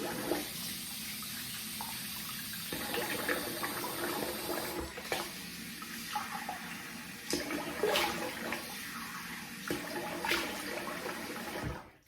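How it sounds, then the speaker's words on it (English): Water runs steadily from a tap while a face is rinsed after shaving, with splashing and shifting flow as hands move through the stream; no voices. "I'm gonna rinse the face here."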